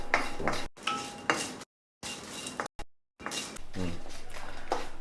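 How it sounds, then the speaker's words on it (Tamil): Chillies and sesame seeds dry roasting in a pan for Tamil black sesame rice, with faint scraping and stirring clinks between silent gaps and a voice talking over it. "இதையும் வந்து ட்ரை ரோஸ்ட் பண்ணி எடுத்துக்குவோம் ஒரு ரெண்டு நிமிஷம் இதை வறுத்து எடுத்துக்குவோம்"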